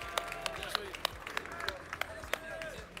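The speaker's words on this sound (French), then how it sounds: "Merci beaucoup, on les applaudit." Crowd at the Paris Games Week gaming convention claps for contestants, a dense spread of hand claps with scattered sharp peaks, people talking over it.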